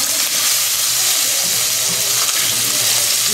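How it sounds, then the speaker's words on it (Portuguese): Feijão tropeiro being stirred in a pan with a wooden spoon, a steady loud sizzle and frying hiss filling the whole stretch, with faint scraping under it and no voices. "sempre mexendo com a colher de pau"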